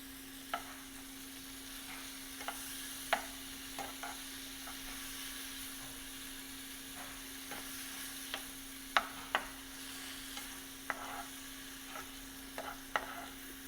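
Wild mushrooms sauté in a pan, a soft, low hiss of frying with scattered sharp clicks and taps of stirring, faint and steady over a constant low hum.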